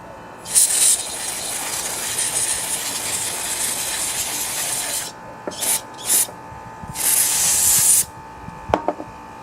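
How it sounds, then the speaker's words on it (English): Spray aimed at a part from a Ryobi tiller that was frozen with corrosion: a long steady hiss, then several short bursts and a final longer spray, with small clicks of handling near the end. "And we can still spray it down."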